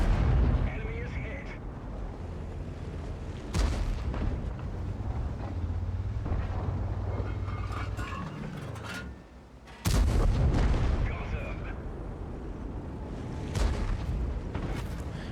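Tank cannon fire in World of Tanks, a heavy Conqueror tank, booms out in loud, sharp blasts at about 3.5 and 10 seconds over a steady engine rumble, with a few smaller shots and impacts scattered between them.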